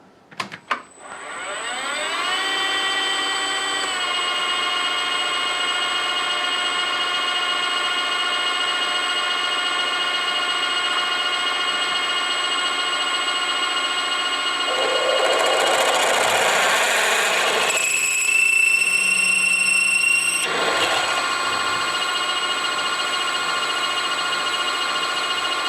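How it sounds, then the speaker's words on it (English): Drill bit cutting 4 mm deep into a MIG welder drive roller on a drilling machine: the motor spins up and holds a steady whine, with a louder grinding cut midway before it settles, no speech. "we will have a crack at drilling that down 4 millimeters"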